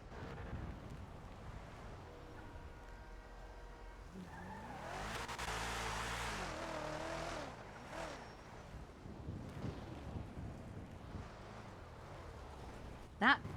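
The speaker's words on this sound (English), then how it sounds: "That car, wherever it fucking is very loud." A loud car engine roars somewhere nearby in a busy street scene, swelling and fading, with tire noise and wind beneath it.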